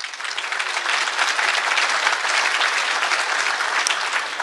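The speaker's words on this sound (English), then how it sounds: "Give those kids a round of applause." A conference audience applauds at the International Snowmobile Congress, dense steady clapping from a large crowd that holds for several seconds.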